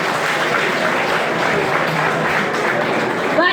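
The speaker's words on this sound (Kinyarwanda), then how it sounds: "ariko mumuha amashyi nawe" An audience claps and applauds at a speech event, a dense sustained wash of clapping at steady strength from start to end, with a brief louder burst near the close.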